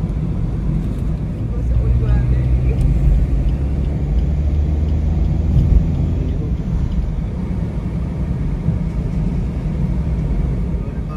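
A car cruises along the road toward Palolem beach in South Goa, a steady low engine and road rumble heard from inside the cabin, with a voice talking over it.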